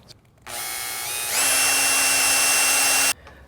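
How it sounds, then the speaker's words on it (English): A power drill bores holes through wood while assembling a trash bag raft frame, a steady close whine lasting about three seconds that steps up in pitch partway through, alone with no talk. "I'm going to drill some holes to put some screws"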